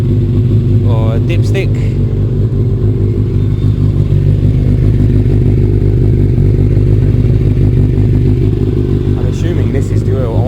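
A BMW F650 motorcycle engine idles with a steady, loud, low throb that runs unbroken through the whole stretch, while someone talks over it.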